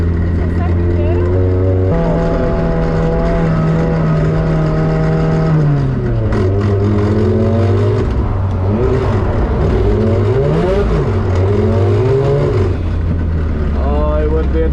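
A BMW with a faulty second gear drives and revs loudly, its engine note holding steady, then climbing and dipping in repeated swells with a whining drivetrain, while people talk over it.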